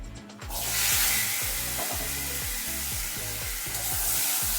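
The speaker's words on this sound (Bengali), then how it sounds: "এটা একটু ভেজে নেব।" Jackfruit seeds and potatoes frying in a little oil in a pan, a loud steady hiss that starts abruptly and holds throughout, with a regular pulsing hum underneath.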